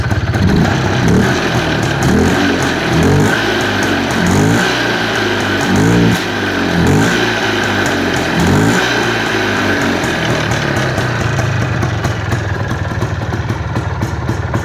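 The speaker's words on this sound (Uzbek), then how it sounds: "Mana motorlarga quloq solishingiz mumkin. Hozir gaz berib ko'ramiz." A Planeta 5 motorcycle engine is revved in a rapid series of throttle blips, rising and falling about a dozen times, then settles into a steady, loud, close-up idle.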